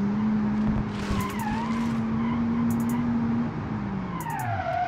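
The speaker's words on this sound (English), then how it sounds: "It keeps spinning the tires because the gear ratios are bad." A front-wheel-drive car in BeamNG.Drive, with very torquey power and poorly matched gear ratios, spins its tires and squeals loudly over a droning engine note that climbs and then falls away.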